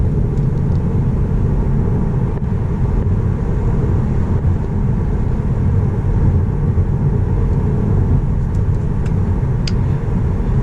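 Tesla Model 3 electric car accelerating, a steady loud low rumble of road and tyre noise from inside the cabin throughout, with no talk.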